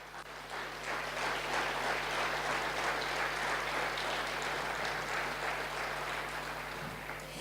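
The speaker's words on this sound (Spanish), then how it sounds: "Dale un fuerte aplauso." Applause from a congregation at a church service, a steady, slightly distant wash of clapping over a low hum, sustained evenly before easing slightly at the end.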